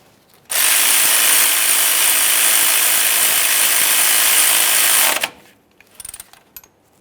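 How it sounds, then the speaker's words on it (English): A ratchet snugs a 10mm mounting bolt on the front brake flex hose of a 2015-2020 Ford F-150. It gives one loud, continuous run of rapid clicking for several seconds, then stops, followed by a few faint scattered clicks. "start in our 10mm headed mounting bolt and snug it up"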